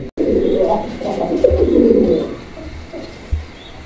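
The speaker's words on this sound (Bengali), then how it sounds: "এখানে একটা সিঙ্গেল কবুতর আছে, সিঙ্গেল একটা কবুতর মাশাআল্লাহ" A single pigeon coos close by in a pigeon-selling setting, with a steady throaty coo lasting a couple of seconds and then fading, plus a couple of low thumps.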